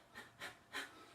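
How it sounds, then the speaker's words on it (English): A person pants rapidly during active birth breathing practice, with three quick, close breaths in an uneven rhythm, heard alone and fairly soft. "So he's panting, so I pant too."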